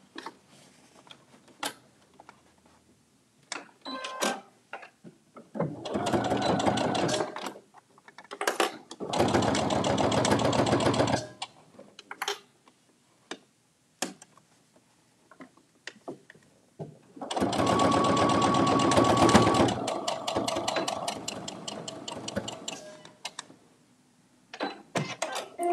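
A sewing machine stitches side panels onto fabric zipper pouches in three long bursts of rapid mechanical whirring, separated by quiet pauses filled with light handling clicks.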